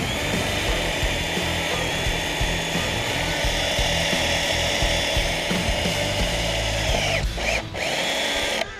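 A power drill whines steadily and grinds through a worn bushing on a Peerless 820 at close range, its pitch dipping briefly near the end.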